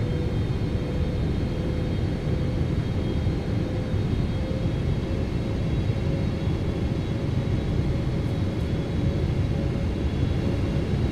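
Airliner engines of a PMDG Boeing 777F freighter in a flight simulator, a steady, loud broadband roar with a faint whine, continuous and unchanging throughout with no talk.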